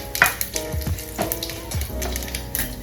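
Urad dal and two dried red chilies frying over high heat in a pan for lemon rice, a steady close sizzle with a few soft stirring scrapes and no talk.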